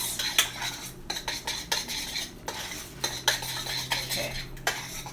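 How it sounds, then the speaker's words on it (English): Spoon scraping and clinking rapidly against a dish while mixing protein powder into oats, a busy, close run of irregular metallic taps and stirring scrapes with no talking. "Now we're gonna mix it really fast."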